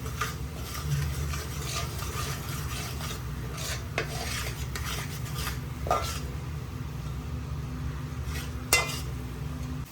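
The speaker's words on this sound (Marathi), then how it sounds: "हे मसाले छानसे हलवून घेऊया, परतून घेऊया याच्यात वाटणामध्ये मिक्स करून." Spice masala with turmeric is stirred and sautéed in a pan for sea crab curry, a spoon scraping and clinking against the metal in steady strokes over a soft continuous sizzle.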